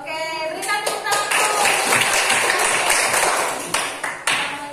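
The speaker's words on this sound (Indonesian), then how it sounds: "berikan tepuk tangan" A classroom of pupils clapping for a student group, brisk uneven handclaps close by that build into a burst of applause and then taper off into a few scattered claps, with a ringing tone heard briefly at the start.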